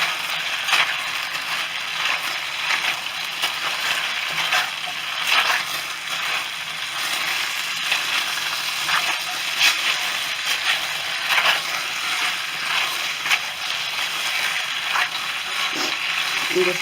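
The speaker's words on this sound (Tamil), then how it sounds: "கிளறி விடணும்." Chicken Manchurian is stirred in sauce in a hot pan, producing a steady, dense sizzle with rhythmic stirring and scraping sounds, close and fairly loud throughout.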